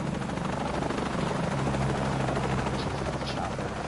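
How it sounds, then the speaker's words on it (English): A helicopter in Shadow of the Tomb Raider thrums with a steady, loud rotor chop throughout, close and constant, with faint game effects layered over it. "Chopper."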